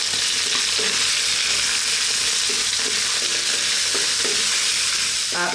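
Finely chopped onions sizzle steadily in a pan over just-above-medium heat for a spinach and potato curry, with frequent stirring scrapes throughout; close and continuous with no talking.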